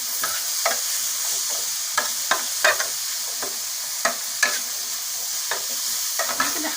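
Carrots and other vegetables are stir-fried in a pan for a chicken turli dish: a soft, continuous sizzle broken by repeated sharp scrapes and clacks of a spoon stirring, close and clear with no talking.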